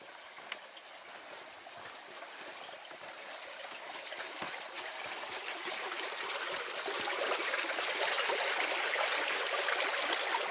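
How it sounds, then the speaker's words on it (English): A creek beside a hiking trail near a lake flows with a continuous broad rushing and trickling wash, fairly close, growing gradually louder and brighter throughout, with no voices. "it's really just a creek coming off of this"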